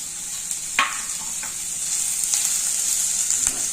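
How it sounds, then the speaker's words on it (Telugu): Chopped onion, capsicum and other vegetables sizzle steadily in a hot pan for vegetable manchurian, a constant hiss with a few sharp spatula scrapes and stirs breaking through, close and alone with no talking. "అన్నీ వేగుతాయి."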